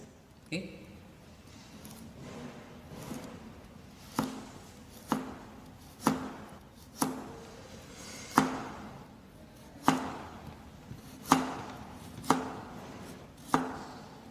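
A knife chops vegetables into diagonal slices on a cutting board, about a dozen crisp, evenly spaced thuds in a steady unhurried rhythm, close and clear.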